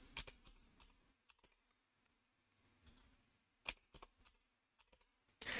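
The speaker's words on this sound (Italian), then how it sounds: "Quindi digitiamo Pluto e non Pippo." Someone types a password on a computer keyboard while setting up VeraCrypt encryption, quiet scattered key clicks in short bursts with pauses between them, ending in a quick cluster of taps.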